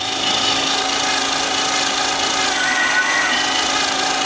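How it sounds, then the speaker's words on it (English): A power tool grinds away part of a metal plate on a homemade gas turbine jet engine build, a loud, steady whirring drone with no letup, close by. "I've got to grind a little bit of the plate away there so I can get the spanner in"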